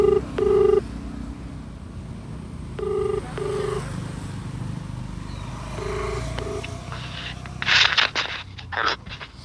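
A mobile phone on speakerphone places a call. Three short bursts of ringback tone repeat at even intervals over a low background hum, followed by a few brief clicks and handling rustles.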